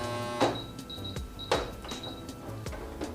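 A sewing machine labors while stitching a paper album, its motor whirring with repeated strained thumps and clicks as the needle punches through, a steady mechanical rhythm with no voices.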